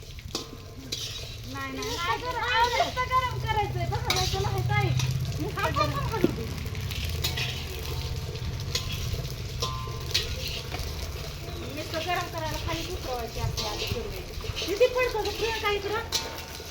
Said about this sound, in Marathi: आता सगळं भाजून घेतलेलं आहे बघा आणि कांदा भाजायला टाकलाय